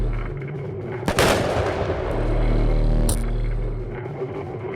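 An explosive vial thrown in the horror RPG Fear and Hunger bursts with a sudden sharp bang, followed by a rumbling decay, a second crack and a low droning hum.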